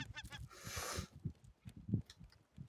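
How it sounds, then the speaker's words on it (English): Birds call outdoors with repeated goose-like honks and squawks, some nearer and some farther, over a brief rushing noise and faint background sound. "Bird."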